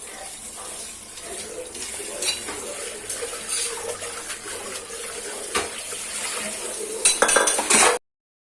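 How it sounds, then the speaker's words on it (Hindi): Dishes and utensils are washed at a kitchen sink as the tap runs, with steady water, scattered clinks of cutlery and pots, and a burst of rattling near the end before an abrupt stop. "अब बर्तन धोने के बाद ना, जब ये बर्तन धुल जाएंगे"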